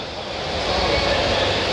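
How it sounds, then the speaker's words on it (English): A train rushes past at a model train show in Costa Mesa, a steady, loud rolling roar that swells slightly over under two seconds, with no one talking. "there goes the other train flying the other way"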